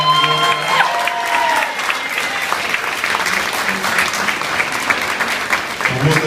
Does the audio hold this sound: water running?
no